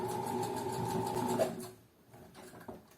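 A sewing machine stitches the end of a seam with a fast, steady, quiet mechanical whir that stops after about a second and a half, followed by faint handling clicks.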